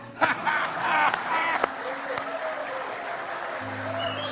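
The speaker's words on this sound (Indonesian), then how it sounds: "Tepuk tangannya tidak ikhlas." Brief audience applause at an indoor speech event, a burst of scattered claps in the first couple of seconds that fades under a hum and a voice.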